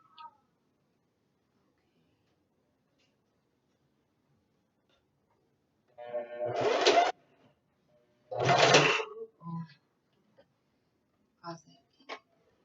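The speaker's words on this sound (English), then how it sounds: "we're going to get back to the sewing here" A sewing machine stitches ribbon onto a handmade moss bag in two short bursts of rapid whirring, each about a second long, separated by quiet pauses and followed by a few faint clicks.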